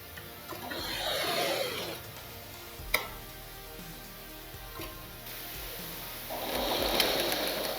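A sewing machine stitches a blouse lining in two bursts of rapid, buzzing whirr at the start and end, separated by a quieter pause with a couple of sharp clicks.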